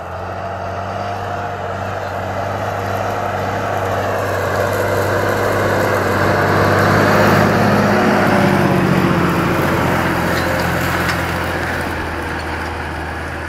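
A Fendt LSA 614 Turbomatik E tractor pulls a disc harrow across a field, its engine a loud, steady, rumbling drone that swells slightly and then eases back, heard alone without voices.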